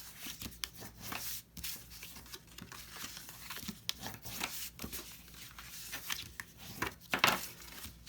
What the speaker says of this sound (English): All I do is fold up on the crease lines.